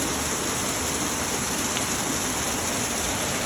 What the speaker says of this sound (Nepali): ठुलो पानी परेछ नि